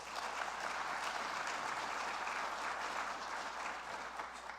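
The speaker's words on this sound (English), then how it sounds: "Please give them a round of applause." Steady applause from an audience at a teacher retention summit, a dense sustained clapping that holds evenly for the whole stretch at moderate distance.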